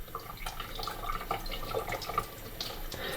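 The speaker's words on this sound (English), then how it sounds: "I'm now going to rinse this out with some clean water." Water runs from a tap and splashes steadily over a Bosch Tassimo Joy coffee machine water filter being rinsed, with small drips and clinks mixed into a continuous close trickle.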